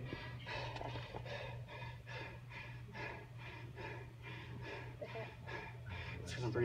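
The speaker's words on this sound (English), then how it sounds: "It's because I'm breathing so hard." Heavy breathing from a weightlifter after exertion: repeated loud gasping breaths in a steady rhythm close to the mic, over a constant low hum.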